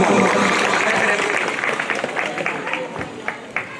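A crowd breaks into loud applause, a dense wash of clapping that slowly thins toward the end.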